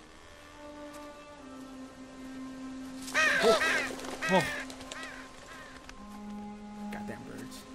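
Crows cawing in The Walking Dead video game, a burst of harsh repeated caws in the middle, fairly near over a quiet background hum, with a brief voice exclamation.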